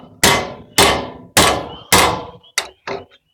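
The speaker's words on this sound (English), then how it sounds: "then you come back over here with your trusty hammer and you hit this ear right here." A hammer strikes the metal ear of a trailer jack with six sharp, ringing clangs. The first four come at a steady pace, then two quicker, lighter taps follow. The blows are close and loud, with no talk.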